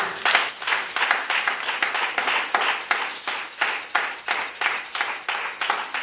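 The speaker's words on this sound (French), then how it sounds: "Clap for Jesus" A church congregation claps together in a fast, steady rhythm, sharp repeated hand claps filling the hall at close range for several seconds without voices.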